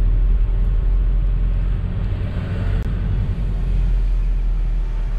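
Road traffic rumbles past steadily, a loud low drone of passing vehicles close by, continuous with no pauses.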